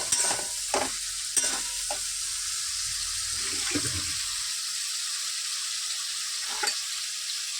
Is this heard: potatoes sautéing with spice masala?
yes